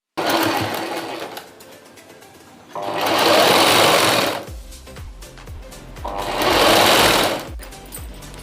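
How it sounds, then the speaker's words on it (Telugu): A sewing machine stitches a patch piece onto a boat-neck blouse in two long, loud whirring runs separated by a quieter pause, heard up close. "ఇప్పుడు ఈ పీసు ఇలా కుట్టుకోవాలండి."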